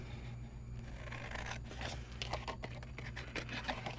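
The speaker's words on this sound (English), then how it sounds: "I'm just going to cut up all of the score lines now" Scissors snip through Stampin' Up! paper card along its score lines, a close run of short, crisp cuts and scrapes over a faint steady hum.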